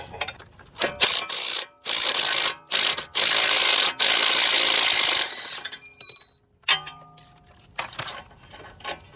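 A ratchet wrench on an 18mm bolt in the suspension of a BMW E92 coupe, clicking in bursts of fast pawl ratcheting with short pauses, then lighter metallic tool clinks, close and loud with no talk.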